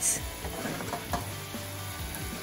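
Courgette pasta cooking in a pan gives a steady close sizzle with scraping stirring strokes through it and a brief clink of utensil on the pan.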